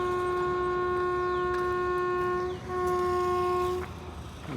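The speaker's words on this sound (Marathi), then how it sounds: "अजून एक ट्रेन आहे" A train at Khed railway station sounds a long, loud horn blast that briefly dips and resumes, over a steady rumble of passing wagons.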